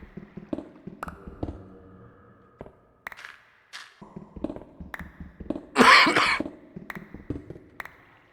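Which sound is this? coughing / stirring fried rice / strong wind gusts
coughing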